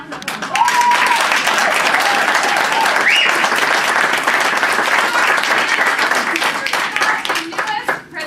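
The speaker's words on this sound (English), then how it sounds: "Another round of applause." An audience bursts into sustained applause, dense clapping from many hands that holds steady for several seconds and then tapers off, with scattered voices and a few whoops mixed in.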